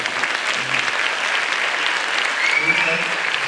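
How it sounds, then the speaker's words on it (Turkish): Concert audience applauding at a symphonic live performance of Yeşilçam film music, a steady dense wash of clapping throughout with faint voices mixed in. "Bu alkış bizim en büyük gıda biliyorsunuz"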